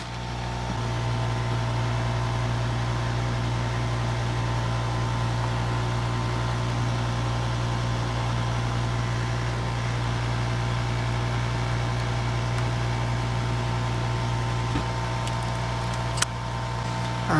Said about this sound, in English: now we'll just go over it with the hot air and melt all the solder paste into their